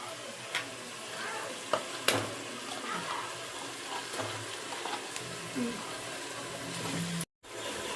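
A ground paste of ginger, garlic, mint and shallots sizzles in a pan of hot oil while cooking mushroom biryani, a soft continuous frying hiss with occasional stirring clicks and scrapes, fairly quiet throughout.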